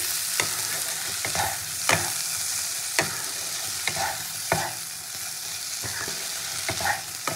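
Softened eggplant in a bhetki fish chorchori is turned in a hot pan, a constant oily sizzle broken by irregular spatula scrapes and clacks against the metal, close and unaccompanied by talk.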